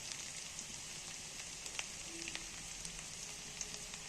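Soft, steady crackling and sizzling of onion frying in oil, faint and continuous with small scattered pops.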